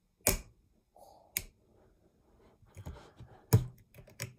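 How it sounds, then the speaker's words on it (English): Crisp clicks from a Prime drink bottle being opened, several sharp isolated snaps spaced over a few seconds, close and clear against near silence. "I love the click when you open like all bottles of Prime"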